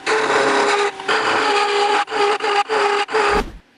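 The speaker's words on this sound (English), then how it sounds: "It's slow, turning aluminum even with the carbide, but I'm getting there." A lathe turning aluminum with a carbide cutting tool gives a steady, close, gritty scraping hum, broken by several short pauses before it cuts off near the end.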